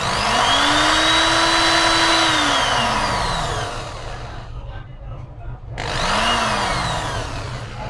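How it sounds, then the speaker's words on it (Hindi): An electric drill bores small holes while building a cheap lithium battery charger, the motor whining up to speed in one long burst and then a second short burst after a pause, loud and close. "तो ड्रिल की मदद से हमने यहाँ पे छोटे छोटे से सुराख कर लेने हैं।"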